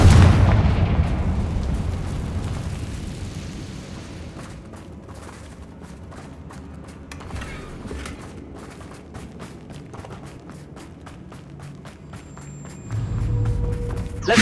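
A Confringo blasting spell explodes in the Hogwarts Legacy video game, opening with a deep booming blast that fades into a long rumbling tail with crackling debris, then a second low rumble near the end.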